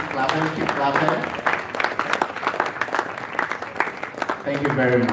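A crowd at a university health week forum keeps up continuous applause, thick and even, while a voice speaks over it near the start and again at the end.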